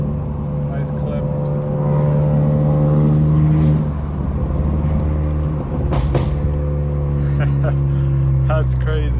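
A 2019–2020 Honda Accord Sport 1.5T with a loud exhaust, a deep steady engine drone that swells slightly as it revs, heard close from inside the car while a person talks over it.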